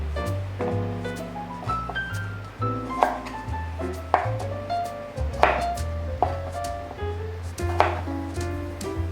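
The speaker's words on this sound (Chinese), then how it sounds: "这小黄瓜切起来有一点粗，可以再给它切一半，变成像这样子的细条状。" A knife cuts a small cucumber into thin strips on a board, with close, crisp chops falling in uneven bursts.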